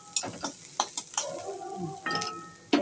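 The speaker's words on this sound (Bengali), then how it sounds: "হয়ে গেছে পেঁয়াজ রসুন ভাজাটা" Onion and garlic sizzle softly in a pan, punctuated by several sharp stirring clicks and scrapes of a utensil.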